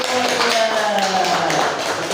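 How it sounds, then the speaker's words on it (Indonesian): Schoolchildren in a classroom clap together in a quick rhythmic pattern, close and loud, mixed with their voices chanting or calling along. "Iya, tepuk tangan."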